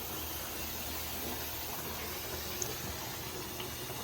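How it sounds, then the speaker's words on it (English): A household well pump runs as water fills storage tanks, making a steady, even rush of flowing water and pump noise throughout with no pauses. "You can hear the well pump kicked on. Water's filling the tanks."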